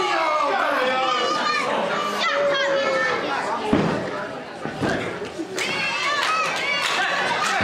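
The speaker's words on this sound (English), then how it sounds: "And you can hear the crowd." A loud, dense crowd at a Genesis Pro wrestling show shouts and cheers continuously, with many high-pitched young voices and a heavy thud partway through.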